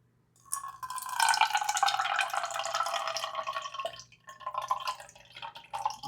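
Fresh citrus juice pours from a stainless steel manual citrus juicer into a glass, a close, steady trickling stream for about three seconds, a brief pause, then a few more splashy pours and drips.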